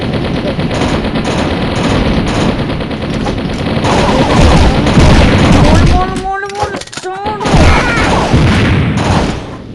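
Rapid gunfire and booming explosions fill a Mini Militia mobile game match, dense and loud, with a brief lull before the shooting resumes.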